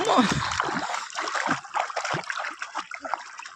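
A young child splashing and swimming in water, with continuous close splashes and sloshing under people talking.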